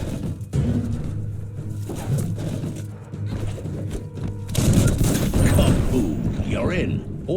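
An explosion going off after gunfire in the video game Biomutant, a loud burst that swells into a long rumbling roar partway through, with a voice talking over the scene.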